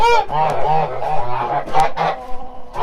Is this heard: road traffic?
no